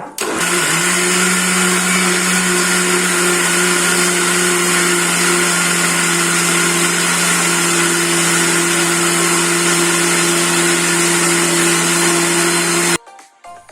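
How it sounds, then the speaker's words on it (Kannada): An electric mixer grinder whirs loud and steady for about twelve seconds, grinding grated coconut for moong dal payasa, then cuts off abruptly. "ಇವಾಗೆಲ್ಲ ತೆಂಗಿನಕಾಯಿ ತುರಿಯನ್ನು ಜಾರಿಗೆ ಹಾಕೊಂಡಿದ್ದೇನೆ ಇನ್ನು ಇದನ್ನು ಮುಚ್ಚಳ ಹಾಕಿ ಕಡಿತೇನೆ"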